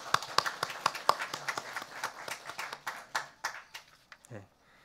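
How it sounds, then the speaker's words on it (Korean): A church congregation at a Sunday service claps in a quick, distinct rhythm, sharp individual hand claps at close range gradually thinning out before trailing off near the end. "우리 박수로 한번 격려하겠습니다."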